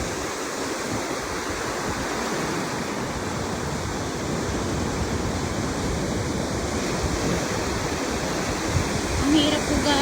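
Strong ocean waves crash and rush continuously at close range in a loud, unbroken wash of surf, with no clear pauses between breakers.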